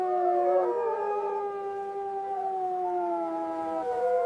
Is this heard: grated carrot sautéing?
no